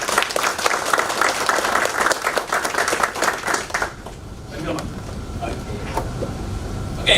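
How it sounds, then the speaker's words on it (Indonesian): An audience at a talk gives dense, loud applause for about four seconds before it thins into a few scattered claps and room murmur. "kita beri tepuk tangannya pada"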